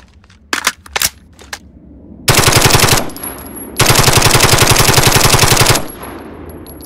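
Game sound effect of an M4A1 rifle: scattered single shots followed by two sustained bursts of rapid automatic fire, loud and close, separated by a brief pause.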